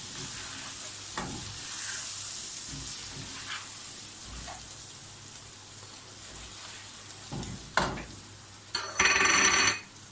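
Fried onions dropped into a sizzling white chicken biryani pot, a continuous close hiss with scattered stirring clatters and a louder burst of sizzle near the end.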